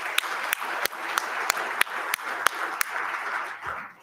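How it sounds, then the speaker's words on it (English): Audience applause at a downtown community gathering, steady clapping from a crowd with sharper individual claps standing out, fading out at the end. "So, round of applause."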